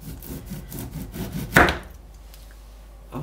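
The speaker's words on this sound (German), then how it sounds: "Ich schneide immer ganz dünne Scheiben." A knife slices thin pieces on a board with soft repeated rasping strokes, then one sharper cut stands out before things go quiet.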